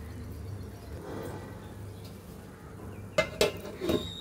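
A metal pot lid clanks down over a pan of khichuri with mint leaves, giving a few sharp close clatters after a stretch of quiet kitchen background.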